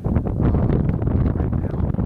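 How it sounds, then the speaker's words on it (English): Strong wind gusts from Hurricane Dorian batter the microphone at Sea Pines Beach, a steady low roaring buffet that swells and dips for the whole stretch with no voices over it. "We've got a couple of gusts of wind here"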